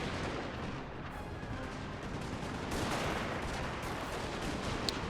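Dense, continuous battlefield din of artillery cannon fire and musketry in Napoleon Total War, a steady rumbling wash of overlapping shots with a brief sharp report near the end.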